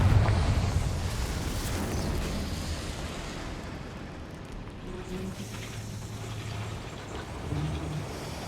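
The Confringo blasting spell explodes in Hogwarts Legacy. A loud blast opens, then rolls into a long, low, roaring rumble that slowly fades while faint, muffled activity carries on under it.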